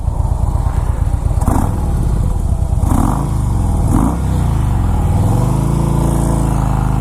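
Harley-Davidson Fat Boy S exhaust on the move with stock throttle, a loud, continuous low rumble with a few brief surges and shifts in pitch as the rider works through the gears.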